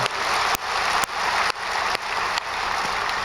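A church congregation at a Friday night service claps in a steady, dense wash of applause, loud and close, with a few sharper accents standing out through the sustained sound.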